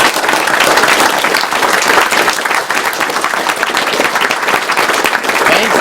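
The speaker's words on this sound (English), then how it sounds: "They definitely deserve a round of applause too." A large convention audience at the Awesome Games Done Quick 2013 charity marathon applauds the donors, giving sustained, dense clapping that stays loud and steady throughout, with a few voices mixed into the crowd.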